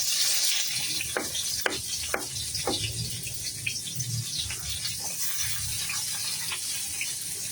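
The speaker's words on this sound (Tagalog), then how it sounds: "Gisa lang ako ng sibuyas." Onions sauté in a pan with a steady, bright sizzle, broken by scattered clicks and scrapes of stirring, close and continuous throughout.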